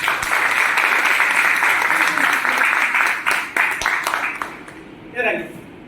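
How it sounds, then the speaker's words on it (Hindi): Loud, enthusiastic audience applause at a direct selling business meeting, dense clapping that thins out after a few seconds as a voice begins speaking over the final stretch. "एक बार जोरदार तालियां सर के लिए"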